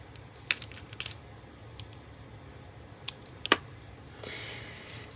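Scissors cutting a paper bag, several sharp crisp snips in irregular bursts close by, with a longer soft rustle of paper near the end and no talking.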